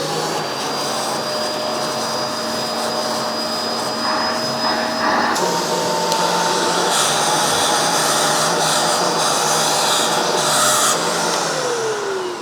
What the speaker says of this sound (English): That's how much suction you get with this vacuum cleaner.